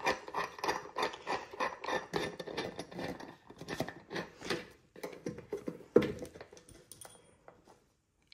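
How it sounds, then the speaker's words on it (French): A threaded part is screwed by hand onto a lamp fitting, with scraping, grinding turns that come in short regular bursts, close up and gradually slowing and thinning out toward the end. "Je viens visser."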